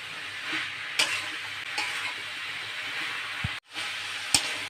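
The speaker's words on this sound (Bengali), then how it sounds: "এখন আমি দিয়ে দেবো বাজার চিংড়ি মাছগুলো দিয়ে আমি আর একটু নাড়াচাড়া করে দেব" Prawns being stirred into a raw jackfruit curry in a hot pan, a soft continuous sizzle broken by a few sharp spatula knocks and scrapes, with a brief gap near the end.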